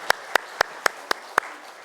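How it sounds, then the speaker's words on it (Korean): A few people in a church congregation clap, six sharp, evenly spaced claps in a slow rhythm, fairly close and isolated, with quiet room tone between them. "하나님 앞에 영광의 박수를 드리겠습니다"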